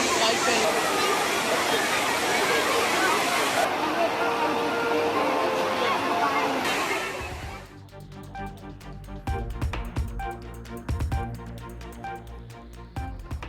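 Water pours over Kodiveri dam in Erode district like a waterfall, giving a loud, continuous broadband roar for about seven seconds. Bathing tourists crowd the spot. The roar then gives way to quieter, choppier sounds.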